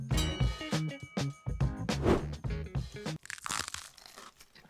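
Crunchy food bitten and chewed close up, a rapid series of sharp, loud crunches in an uneven rhythm, followed by softer chewing.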